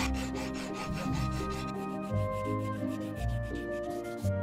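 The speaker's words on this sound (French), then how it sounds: "Maintenant, il faut arrondir et polir soigneusement." Rasping and sanding strokes shape and smooth the wooden handle of an old German cleaver by hand, a steady run of close, even rubbing scrapes over faint background music.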